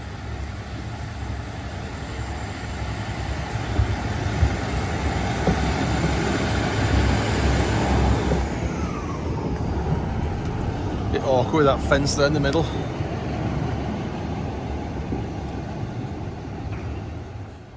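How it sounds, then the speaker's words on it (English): Passenger train unit 152.32 rumbles into a Devon station bound for Okehampton, a long, loud, close roar that builds and then gives way to sharp high brake squeals near the end, while someone talks over it. "Right, our train's coming in now for Okehampton."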